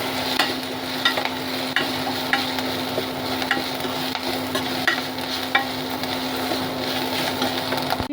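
Onions frying with kasuri methi for jeera rice: continuous close sizzle with frequent rhythmic spoon stirring and scraping against the pan, no voices.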